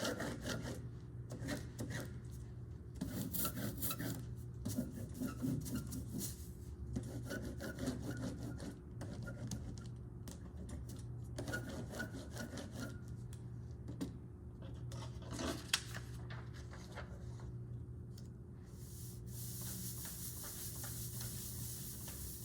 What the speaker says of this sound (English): And you can use your hands to rub the plate.